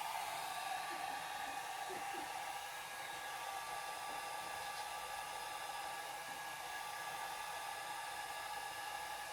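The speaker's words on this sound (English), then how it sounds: "And I'll use my dryer, if I can find it, there it is. To dry that, I'm putting it on low." A hair dryer blows steadily on a low setting, a constant airy whoosh that holds an even level from start to finish, with no talking.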